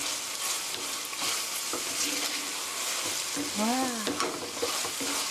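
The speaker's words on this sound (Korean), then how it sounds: "그래서 고루 잘 섞어주시고" Soy sauce chicken stirred in a frying pan, a steady broadband sizzle with scraping strokes throughout, fairly close; a person briefly exclaims partway through.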